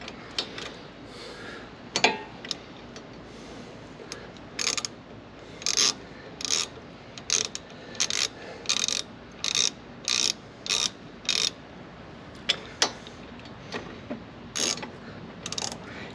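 Ratchet wrench tightening the rear brake bolts on a Fiat 124 Spider, a series of short, crisp, evenly paced clicking bursts repeating close by with brief pauses between strokes.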